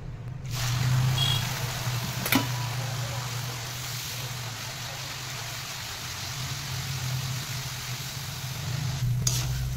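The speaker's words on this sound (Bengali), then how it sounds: "এবার আস্তে আস্তে আমি তেলের উপরে ভেজে নেব" Thin potato sticks, air-dried for a few hours, fry in hot oil with a steady, even sizzle throughout and occasional faint stirring clicks, heard up close and alone.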